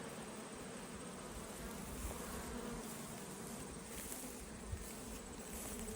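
Honey bees buzz steadily around a hive in rainy northeast Saskatchewan during queen mating season, a dense continuous drone with no voices.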